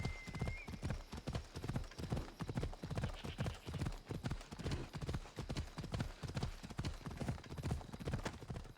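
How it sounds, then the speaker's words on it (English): Horse hooves gallop in a steady, driving clip-clop rhythm across open ground in the video game Assassin's Creed Odyssey. The beat is loud, continuous and even throughout, with a faint whinny early on. "The sound of the horse galloping, the hooves hitting the ground."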